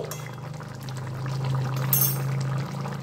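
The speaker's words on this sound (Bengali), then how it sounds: "এবার আমি 1/2 টিস্পুন ঘি দিয়ে দিচ্ছি" Half a teaspoon of ghee poured into a simmering village-style cauliflower and shrimp curry, a brief soft pour over a steady low bubbling hum, close and fairly quiet, with no talking.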